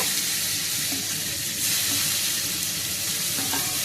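Grated ginger and coconut pieces frying in hot oil produce a dense, loud, steady sizzle up close, with faint stirring movements underneath and no voices.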